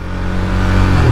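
A KTM Duke 390 motorcycle rides along with a steady, close engine drone that builds slightly toward the end, no voices over it.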